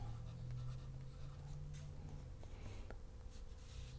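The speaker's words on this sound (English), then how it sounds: "So I like to draw a bunch of lines that they kind of follow, like the airflow." A pencil sketches light wispy lines for cirrus clouds on paper, faint close scratchy strokes in short repeated passes over a quiet background hum.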